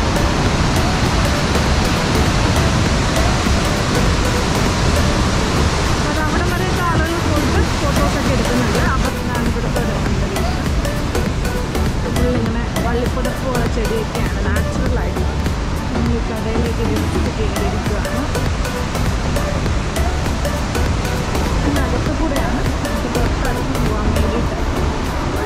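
The Attukal waterfall in Munnar, a loud, steady roar of falling water that fills the whole stretch without pause.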